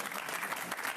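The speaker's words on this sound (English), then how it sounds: "that's the teenagers applauding out there" A teenage audience applauding in a hall, a brief, continuous patter of clapping heard from a little way off.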